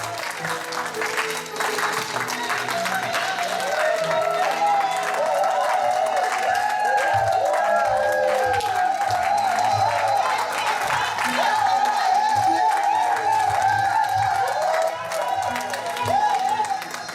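A church congregation applauds and cheers as children are brought forward, with sustained clapping and cheering and mixed voices running steadily throughout.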